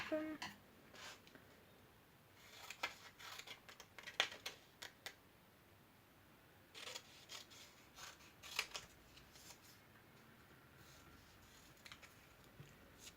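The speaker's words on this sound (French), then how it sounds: "Je coupe du papier." Scissors snip through paper during a colored-pencil drawing session, with several short crisp cuts spread irregularly across the clip, close and quiet, over a soft room background.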